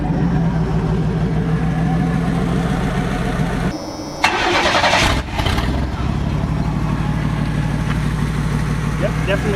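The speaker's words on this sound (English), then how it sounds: "Definitely still has an exhaust" A van engine with an exhaust leak idles steadily with a low, uneven rumble and puffing exhaust, briefly cutting out and revving mid-way before settling back to a rough idle.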